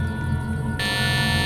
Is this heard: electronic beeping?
yes